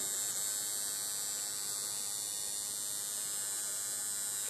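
A Bigwasp cartridge pen rotary tattoo machine runs smoothly, giving a steady, even electric hum with a high whine on top, continuous and unchanging with no voices.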